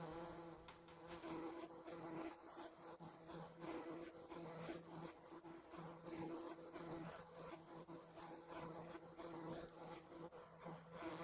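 Steady swarm of honeybees buzzing around hives in a Farming Simulator honey production setup, a continuous dense drone holding at even loudness throughout with no talk.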